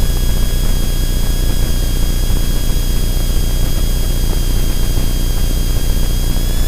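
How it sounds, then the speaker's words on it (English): Centurion-powered small propeller airplane climbing out on takeoff at reduced power, a steady loud engine drone with broadband roar and a faint high whine running unchanged throughout. "Get a lot of people around here that complain about the airplane noise, so we've been kind of being polite, not doing full power on takeoff"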